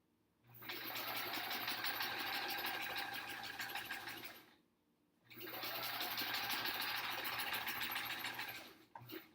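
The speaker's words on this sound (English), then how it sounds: "I think I'll sew them all together at once." A sewing machine chain-pieces quilt pieces for a quilt back in two long steady runs of fast stitching with a short pause between them, close and even, with no talk.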